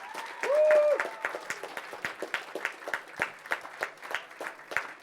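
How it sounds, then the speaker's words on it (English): Scattered audience applause at a youth event, sparse, distinct claps in an uneven rhythm after a brief tonal beep near the start. "Can we put a big round of applause for the consortium partners of PulseZ"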